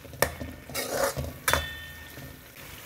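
Chopped tomatoes stirred in a pan for sev bhaji, a few sharp clinks and scrapes of a utensil against the pan over a faint sizzle, close and intermittent with no talk.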